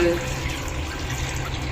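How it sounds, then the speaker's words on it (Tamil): Water pours in a steady, close-up stream, with a continuous splashing rush and no speech. "இதில் வந்து தண்ணி ஊற்றிக்கிங்க, நிறையா ஒரு"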